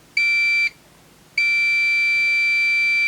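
A Fluke 289 multimeter emits a high, steady electronic beep during a diode test: one short tone, a brief gap, then a second tone held continuously to the end.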